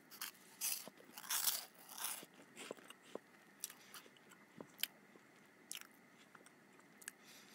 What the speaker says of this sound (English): we also have cheese balls, which are exactly the same but in the shape of balls, and they are hot.